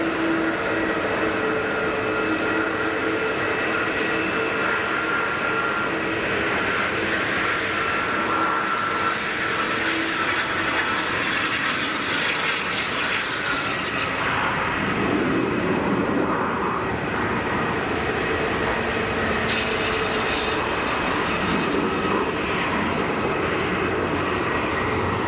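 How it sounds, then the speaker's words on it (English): An Airbus A320neo jet at Geneva Airport, its engines giving a loud, steady roar that fills the whole span with a broad rushing noise and a slight rise and fall. "That's the Airbus Neo that you can hear in front of me."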